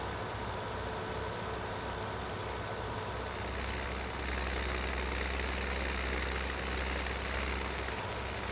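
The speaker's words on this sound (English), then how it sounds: "one of the more proper tractors for this region too, by the way, Ford TW35" A Ford TW35 tractor engine idles steadily in Farming Simulator 17, with a low, pulsing rumble that swells slightly louder midway and then holds an even chug throughout.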